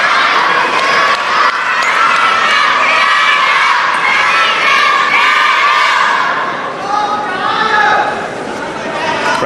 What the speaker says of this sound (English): Crowd very into this match right now.